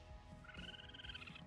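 A Minecraft raccoon gives a short, faint, wavering chirp over soft game ambience in the background.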